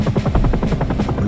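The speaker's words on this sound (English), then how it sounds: "Cambodia by unmarked Hueys that would touch down on a number of clearings" A Huey helicopter flying into Cambodia with a special forces team, its rotor thumping in a steady rapid pulse, close and loud and heard on its own with no voices.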